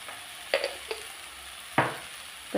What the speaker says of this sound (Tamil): நல்லா ஒரு வதக்கு வதக்கி விட்டுருவோம் நல்லா கிண்டிடுவோம் மாங்காயை